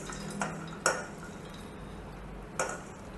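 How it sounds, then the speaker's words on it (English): Nuts and fruit for a sweet filling go into a small frying pan with a few faint metallic clinks and taps of utensil on pan, quiet and spaced out against a soft background hum. "So now we are preparing to make the sweets filling mixture, namely the nuts and fruit, which we transfer to a frying pan."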